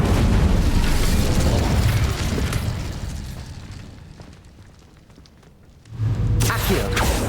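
A loud, sustained fiery blast from the Incendio fire spell in Hogwarts Legacy roars for several seconds, fades to a quieter rumble, then a second burst erupts near the end.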